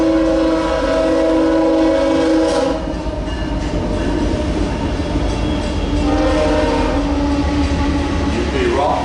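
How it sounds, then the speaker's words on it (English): A rock train rolls past on its way to Houston, a steady loud rumble of wagons with a sustained horn blast near the start and another later on, continuous throughout. "You'd see a rock train going by, going to Houston."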